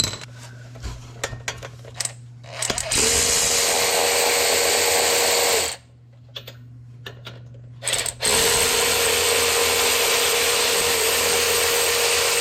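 A power tool, likely an impact driver, whirs loudly in two long bursts with a short gap between them as it removes the 16 mm bolts holding a front brake caliper, with small metallic clinks beforehand.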